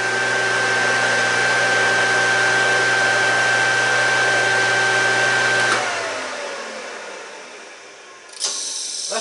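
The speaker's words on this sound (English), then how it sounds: "see if the motor spins" An Ingersoll Rand electric motor spins with a steady whirring drone and a high whine, then switches off and winds down, its pitch falling into quiet before a short clunk near the end.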